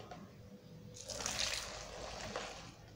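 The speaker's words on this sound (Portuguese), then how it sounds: "eu peguei um pouquinho de água, vou colocar aqui, vamos mexer aqui para você ver" Water being stirred in a small bowl with lauryl to work up foam, a soft close sloshing and trickling that swells after the first second and carries on steadily.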